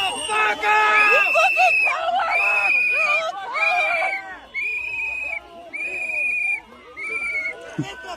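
A crowd screams and shouts in loud, overlapping bursts during an arrest, with repeated shrill whistle blasts cutting through the commotion up close.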